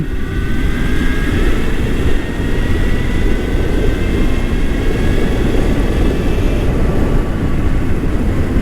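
A home-built, street-legal electric motorcycle accelerates with a loud, steady rush of wind and road noise, while a thin motor whine climbs in pitch underneath. No one speaks.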